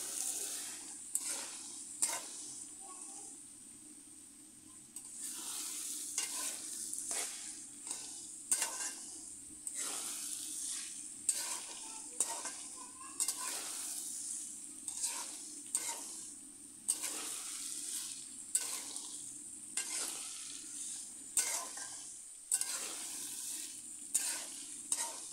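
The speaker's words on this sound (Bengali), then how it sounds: "এভাবে কিছুক্ষণ আমি সবজিগুলোকে ডাল দিয়ে কষিয়ে নিব।" Spinach and mixed vegetables with lentils being stir-fried in a pan, a soft continuous sizzle broken by repeated sharp scrapes and clacks of the spatula against the pan, close and even in rhythm.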